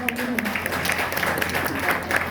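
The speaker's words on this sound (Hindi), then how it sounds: "मैं और एक बार जोरदार ताली चाहती हूँ," Steady applause from a crowd, sustained clapping throughout with a voice faintly audible underneath.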